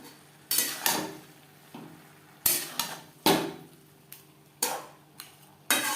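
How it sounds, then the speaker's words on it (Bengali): Pieces of fried rohu fish are added to radish cooking in a pan, giving several sharp clatters and scrapes of utensils against the pan with short sizzling bursts between them, close up and without talking. "এবার এতে অ্যাড করব ভেজে রাখা মাছ"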